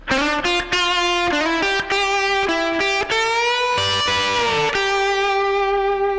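A distorted electric guitar plays the next lick of a rock guitar solo. Fast picked notes give way to a long, held bend that rings out, loud and close, with no voices.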